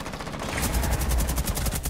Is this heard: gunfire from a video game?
yes